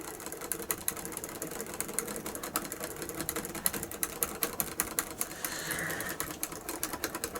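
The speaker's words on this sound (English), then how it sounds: "I shall try and stir it with a whisk." A whisk stirs Mokate Premium Gold instant coffee in a cup to raise froth, making a fast, steady run of light clinks and scrapes, close and fairly quiet, with no talking.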